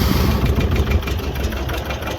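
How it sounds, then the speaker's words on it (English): A two-cylinder diesel engine on an air seeder cart runs steadily at idle in the field, a low continuous putting rumble heard up close with no voices. "Just a 2-cylinder diesel, and she just putts along."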